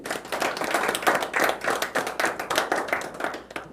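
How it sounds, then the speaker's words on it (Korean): A gathered crowd at the opening of a community peace forum claps together in a lively, fairly loud burst of hand claps with a loose rhythmic pulse, continuing throughout. "참석하신 우리 모두가 박수로 시작하겠습니다."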